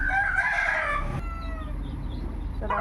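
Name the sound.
chickens clucking and crowing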